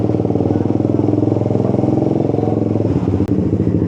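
A Suzuki GSX-R150 motorcycle idles close by with a steady, rapid single-cylinder putter and light mechanical clatter, running continuously with a brief sharp click near the end.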